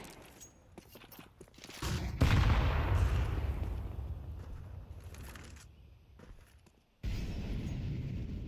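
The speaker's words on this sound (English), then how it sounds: "Another shot hit with the scout, softening up another player." Scout sniper rifle shots in a Counter-Strike pro match: two sharp, loud bursts a few seconds apart, each followed by a lingering rumble and quieter game ambience.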